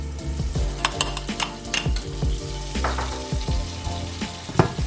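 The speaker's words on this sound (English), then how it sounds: "Give that a real good mix." A spoon stirs a heaped teaspoon of smoked paprika into a gently frying piri piri chicken wing mixture, giving a steady close sizzle broken by repeated scrapes and knocks against the pan.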